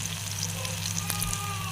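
Pakoras frying in hot oil give a steady, quiet sizzle with soft crackling pops, heard close up without talk.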